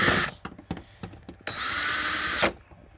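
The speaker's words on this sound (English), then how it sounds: "dual drill with my 8mm socket on the end" A cordless drill fitted with an 8mm socket runs a bolt on a 2006 Honda Ridgeline, loud close whirring in a few short bursts and then one sustained two-second run before stopping.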